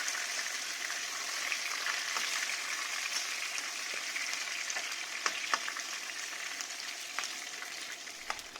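Stuffed brinjals sizzle and crackle steadily in an oiled pan, a continuous bright frying hiss with occasional sharper pops, close and fairly quiet, no voices.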